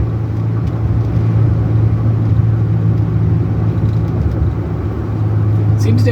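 Inside a moving 2004 Chevrolet Silverado 4x4 plow truck with high mileage, a steady low engine drone and road rumble continue loud and close throughout.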